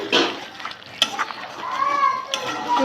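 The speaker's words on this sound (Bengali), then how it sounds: "মশলা কষিয়ে নিচ্ছি আগে, কারণ মাংসটা ভাজা হয়ে গেছে" Meat and spices are stir-fried in a pan, giving a close, busy sizzle broken by sharp scrapes and clinks of a spatula against the pan, with a faint voice in the background.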